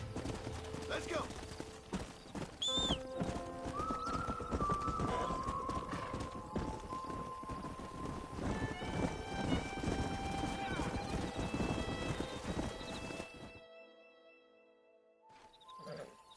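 Horse hooves clip-clop steadily in Red Dead Redemption while a horse whinnies, with tonal game score and a voice speaking over them; the sounds cut off sharply near the end.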